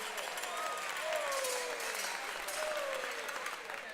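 Audience at a university gas challenge quiz semi-final claps in steady, moderately loud applause lasting several seconds, with no voices over it.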